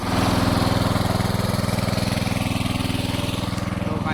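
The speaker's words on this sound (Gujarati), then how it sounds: "આ છે આપણું જનરેટર છે" A generator engine pumping water to a farm field chugs steadily and loudly at close range, a fast even throb without pause.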